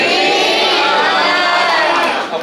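A school audience cheers loudly and continuously for a team, a dense wash of shouting and whooping voices that stays at full level for a couple of seconds before easing slightly at the end.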